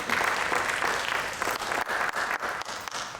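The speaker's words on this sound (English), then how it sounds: "let's give everyone a round of applause for that round of questions" Audience applause at a school district candidate forum, a dense, steady wash of many hands clapping close by, fading slightly toward the end with a few sharper individual claps.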